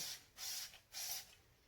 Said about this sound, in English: I spray them with rubbing alcohol